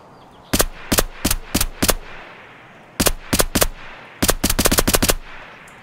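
A Val rifle fires in Escape From Tarkov: loud, close suppressed shots come in three runs, about five shots, then four, then a quicker string of roughly nine, separated by short pauses.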